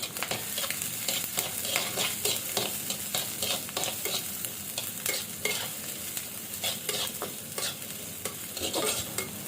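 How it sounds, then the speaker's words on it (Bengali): Chopped onion and garlic fry in a pan while being stirred: a steady close sizzle broken by frequent scraping stir strokes that run without a pause and without any talk. "আমার পেঁয়াজ রসুনটা ভাজা হয়ে গেছে"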